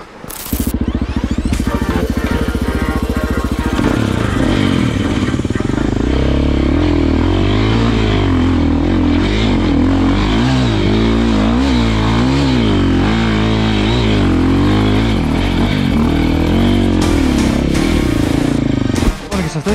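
A new enduro motorcycle's engine revs hard and continuously off-road in the rain, close and loud, with rising and falling throttle surges and clattering over roughly twenty seconds.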